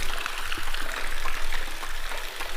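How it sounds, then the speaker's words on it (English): Water leaking through a wall inside an abandoned mill, a close, busy trickle and splash that pulses unevenly and stays fairly loud from start to finish. "Water coming through the wall and all the way across this top here."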